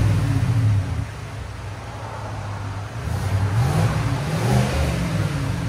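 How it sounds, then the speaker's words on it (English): A 2024 Chevy Tahoe 5.3L V8 idles and revs in low, rumbling surges with quiet exhaust, a fairly steady whooshing cooling-fan noise on top from the hot engine, and no voices. "You can hear the fans more than you hear the exhaust because it's hot."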